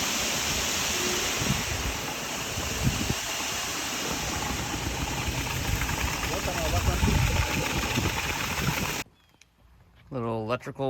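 A cement truck engine idles with a steady, loud rumble during a concrete pour for a backyard pool build, then cuts off abruptly, and a person speaks near the end.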